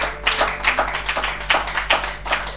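Congregation clapping in praise at a Pentecostal prayer service, a steady run of rhythmic handclaps filling the room, roughly two claps per second.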